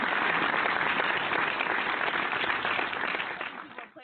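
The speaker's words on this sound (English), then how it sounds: "let's give you a round of applause" Clapping from a small group on a barbershop talk radio show, a brisk, fairly loud patter that runs steadily for a few seconds before tapering off.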